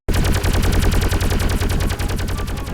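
Railguns blaze in an animated spaceship battle, a loud, continuous rapid-fire barrage of sharp cracks pounding steadily throughout.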